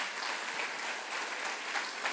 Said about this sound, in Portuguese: E eu queria pedir vocês aplaudir